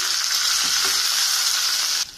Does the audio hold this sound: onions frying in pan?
yes